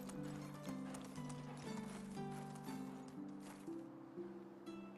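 Horse hooves clip-clop steadily through a ride in the medieval survival game Medieval Dynasty, a continuous rhythmic trot under a sustained musical score, with no talking.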